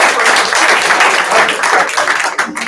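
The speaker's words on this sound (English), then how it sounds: "Give her a round of applause" An audience at a sales meeting breaks into loud, dense applause, sustained clapping close by that tapers off slightly toward the end.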